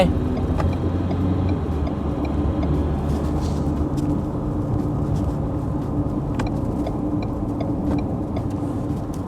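Ford Everest Sport with a 2.0-liter single turbo accelerating on the road, a moderate cabin drone that builds early then settles into a steady hum with road noise, no talking.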